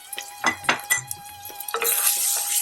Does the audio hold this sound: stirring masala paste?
yes